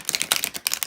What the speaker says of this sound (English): So let me shuffle the cards before I get started here.